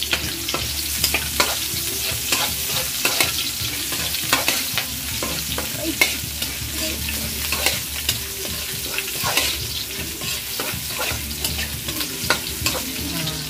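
Onions sautéing in a pan for pork ribs caldereta: a steady, close frying sizzle broken by frequent sharp scrapes and clicks of stirring, with no talking.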